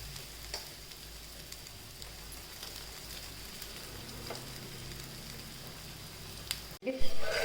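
Rice rotti fries gently in a little oil on a pan over low gas, giving a steady soft sizzle that runs on alone, with a brief louder scrape or stir near the end.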